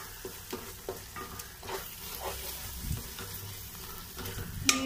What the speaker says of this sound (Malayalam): നല്ലതുപോലെ ഒന്ന് വഴറ്റി കൊടുക്കാം